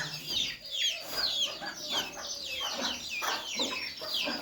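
Hens being let out of their coop on a farm cluck and chatter continuously at close range, with repeated bursts of clucking and no talk.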